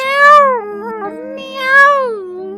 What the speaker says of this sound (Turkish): Kapının arkasında galiba küçücük ufacık tat tatlı bir kedi var.